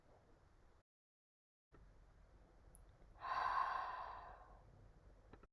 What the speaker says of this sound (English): Take a deep breath in through the nose and exhale it out through the mouth.